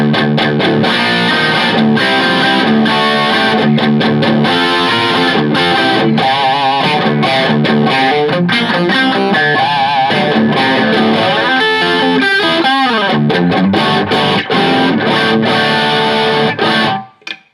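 A heavily distorted PureSalem electric guitar plays loud, dense riffs and chords for most of the clip, ending with a sudden cutoff.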